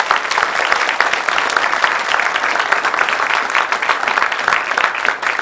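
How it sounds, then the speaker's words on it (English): Sustained applause from an audience at a Caddo Parish public schools event honoring a special education teacher, dense even clapping holding steady throughout. "Please give him a round of applause."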